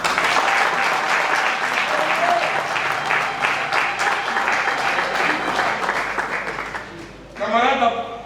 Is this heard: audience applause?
yes